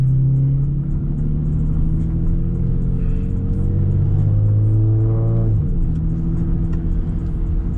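A loud car engine revs and accelerates up close, its steady rumbling drone rising in pitch before easing off, heard alone without talk.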